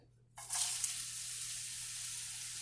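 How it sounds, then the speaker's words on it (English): Food poured into hot grease in a home kitchen pan bursts into a loud, steady sizzle that starts suddenly and holds evenly, close by with no talk. "You hear that sizzle?"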